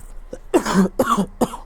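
A person coughs three times in quick succession, close and fairly loud, each cough short and throaty.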